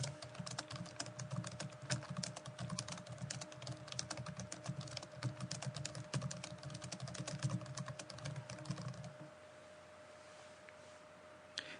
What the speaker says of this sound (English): I begin typing text, the text box will expand to accommodate the text that I type.